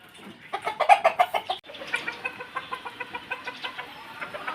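Three-month-old backyard chickens cluck close by in a steady, rhythmic run of short calls, louder at first and then settling into softer repeated clucks.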